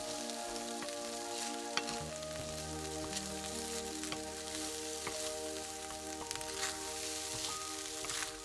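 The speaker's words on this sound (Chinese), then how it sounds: "把糯米倒进去， 开中火翻炒。 让每粒米都沾上油" Glutinous rice stir-fried in oil in a wok over medium heat, giving a steady close sizzle with scattered crackles and occasional spatula scrapes, no voices.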